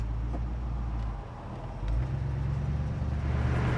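A 1965 Ford Mustang Fastback drives along with a low, steady engine rumble that dips briefly then swells back as it pulls away, with road noise underneath.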